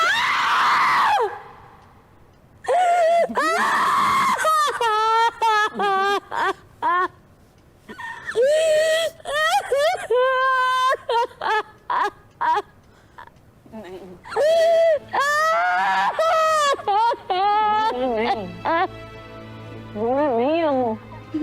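A woman crying in a Hindi-dubbed movie scene, loud wailing and sobbing sobs in long drawn-out bursts with breathy gasps between them, close and emotional, with some low background music toward the end.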